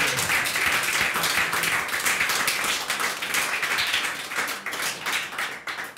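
A live studio audience at a Bundesliga football talk-show lounge claps steadily. The applause is dense and even, a continuous wash of many hands that starts to thin slightly toward the end.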